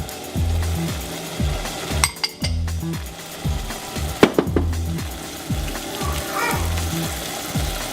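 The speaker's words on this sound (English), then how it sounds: "Once the butter starts to bubble up like that, add your sliced almonds" Sliced almonds frying in bubbling butter in a pan while rice pilaf is cooked, a steady close sizzle broken by a few sharp clinks of a utensil against the pan around the middle.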